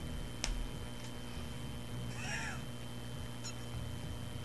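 A single short meow from a cat in the video game No More Heroes rises mid-clip over a faint, steady background hum, with a couple of soft clicks before and after.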